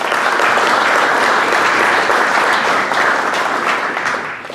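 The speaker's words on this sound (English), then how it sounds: "A round of applause for them, please." Loud, dense round of applause from guests at an agriculture industry awards reception, steady clapping that fades slightly toward the end.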